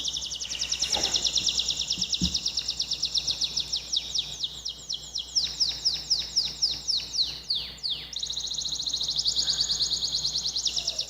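A canary's recorded song played back indoors, a loud continuous run of rapid trills and quick swooping chirps that shifts through several phrases, with no speech over it.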